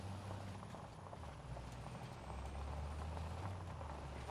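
Ford F350 pickup truck in the Farming Simulator 25 game, a steady low engine rumble idling or cruising with constant loudness throughout, no talk.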